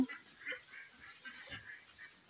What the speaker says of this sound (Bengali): এগুলো আমাদের হাঁস, তো হাঁসগুলো উঠোনের মধ্যে চড়ে বেড়াচ্ছে।